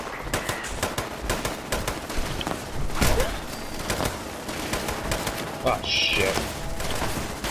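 Bursts of gunshots in the Fallout 76 game, fast cracking shots in loose clusters, loud and near, with a brief spoken exclamation and some chirping game ambience between the volleys.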